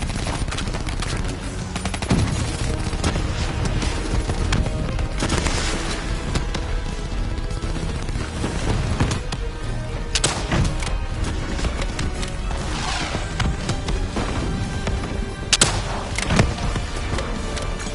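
Dense, continuous gunfire from the Black Ops 3 campaign during a boss fight, rapid automatic bursts layered with heavy booms and thuds, loud and relentless throughout.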